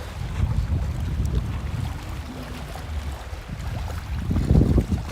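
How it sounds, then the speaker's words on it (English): Wind blows steadily at a waterfront at Sodus Point, a continuous low rumble of buffeting gusts with a faint undertone of water, swelling louder near the end. "it's actually a little windy here"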